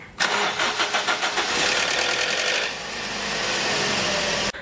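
A car's starter motor cranks in a quick rhythmic burst while testing whether the battery is weak, then the engine catches and settles into a steady idle.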